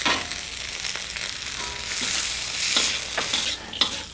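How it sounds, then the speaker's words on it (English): Vegetables with corn, chickpeas, peanuts, sesame and fresh coriander stirred in a frying pan, a close bright sizzle punctuated by repeated scraping strokes and a clack near the end, no voices. "Now let's just stir our veggies up here for a few moments."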